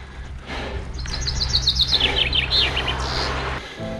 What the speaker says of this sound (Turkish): Kuşlar muhteşem.